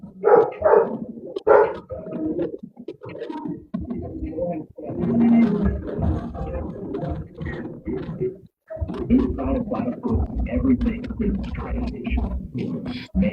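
A dog barks several times, mixed with people talking nearby and other background noise.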